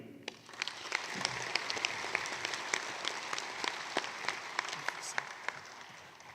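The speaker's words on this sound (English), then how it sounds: "Can we give him another round of applause?" Steady audience applause fills the room at the official opening of an annual general meeting, a dense wash of many hands clapping with scattered sharper claps standing out, sustained throughout with no speech.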